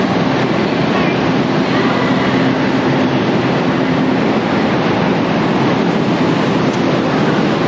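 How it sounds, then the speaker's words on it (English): Eight-carriage train at a station platform on the Vientiane to Luang Prabang line in Laos: a loud, continuous rumbling roar of rail noise with steady hiss, close and unbroken throughout. "8-carriage train, I think."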